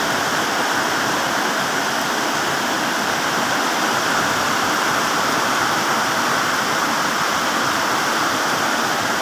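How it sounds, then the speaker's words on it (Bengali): Heavy rain falls steadily on a boat, a dense, loud, unbroken roar of drops with no pauses or voices. "আমাদের নৌকাতে সেই বৃষ্টি হচ্ছে।"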